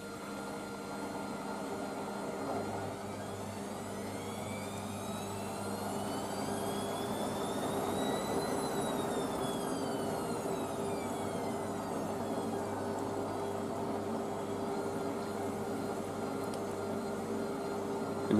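A Bosch VarioPerfect WAK28260GB washing machine on a 90-degree cottons cycle with prewash, loading towels and a blanket. It gives a steady drum hum with a rising and falling whine, running alone at moderate volume.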